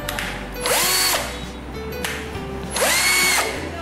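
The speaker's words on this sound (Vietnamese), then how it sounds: "Để khoan và bắt vít, bạn có thể sử dụng công tắc đảo chiều" Bosch GSR 1440 Li cordless drill driver spinning up in two separate bursts, each a loud whirring run of about a second with a rising motor pitch, separated by a quiet pause.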